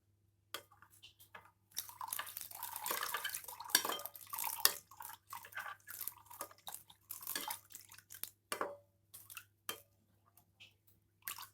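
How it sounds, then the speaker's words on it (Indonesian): Water splashing and dripping into a chocolate milk mixture for es cincau susu coklat, heard as irregular close pours, drips and clinks of a utensil against a container, with quiet gaps between bursts. "kemudian kita tambahkan air"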